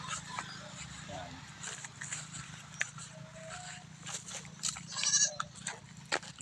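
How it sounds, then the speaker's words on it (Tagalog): Goats bleating on a farm with cattle nearby, several calls rising over a low steady background, fairly close, with someone speaking between the cries. "Nandun naman yung mga kambing"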